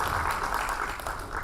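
Audience applauding for a university principal at a campus session, a continuous wash of many hands clapping at moderate distance, fairly quiet and even throughout.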